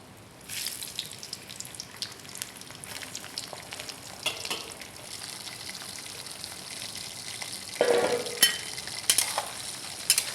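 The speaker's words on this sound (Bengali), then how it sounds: "এখন আমি তেলের মধ্যে আমগুলো দিয়ে দেব" Mango pieces frying in hot oil with dried chillies and five-spice, a steady close sizzle that rises as stirring clatters and scrapes the pan, with a sharper burst near the end.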